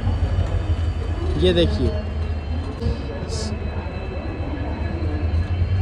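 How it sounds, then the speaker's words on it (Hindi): Palace on Wheels luxury train, a steady low rumble running throughout, with someone speaking briefly over it. "कितनी प्यारी ट्रेन लग रही है यार"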